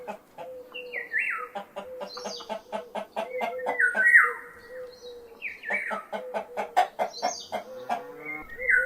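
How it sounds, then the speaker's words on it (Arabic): A hen clucks repeatedly, close and clear, with short rhythmic clucks broken by occasional higher squawking calls. "دجاجة."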